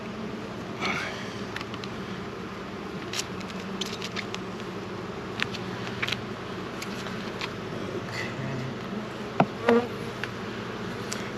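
Steady, dense buzzing of many honeybees close by at an open hive during an inspection, a continuous drone with occasional louder individual bees passing near.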